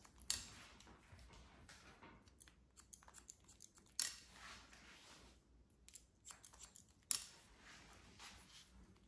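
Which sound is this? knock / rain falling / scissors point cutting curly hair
scissors point cutting curly hair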